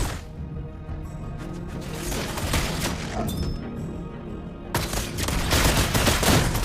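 Mobile Legends gunfire from a rifle hero in battle: dense, continuous shooting and impacts that build and thicken toward the end, loud and close.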